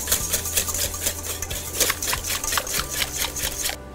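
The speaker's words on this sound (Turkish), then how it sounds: "Hepsini çırpıyorum." A whisk clatters quickly and rhythmically against a bowl, beating a yogurt mixture for a soup liaison. The strokes are close, loud and steady, and they cut off abruptly at the end.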